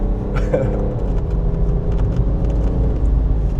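Steady low engine rumble and road noise from a BMW E90 as it accelerates, continuous and fairly loud throughout, heard from inside the car with no talk over it.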